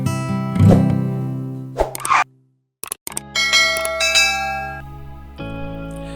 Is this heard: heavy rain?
no